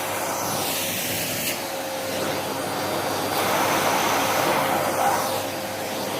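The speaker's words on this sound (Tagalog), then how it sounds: "vacuum muna natin yung bed ko" A vacuum cleaner runs over a bed, a steady, loud, close roaring drone with slight swells in pitch as the nozzle moves across the mattress.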